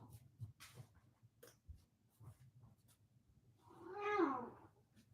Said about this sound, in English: I wanted to show you guys the cat since he's around.